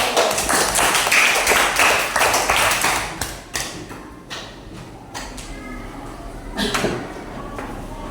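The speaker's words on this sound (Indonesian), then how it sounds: "Tepuk tangan dulu." Students in a classroom clap together: a burst of dense clapping that thins into scattered sharp claps and a few knocks, with room noise and faint voices underneath.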